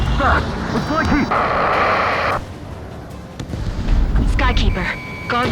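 A missile explosion and jet combat in the video game Ace Combat 7 come as loud bursts of blast noise with alarm tones and radio chatter voices over them.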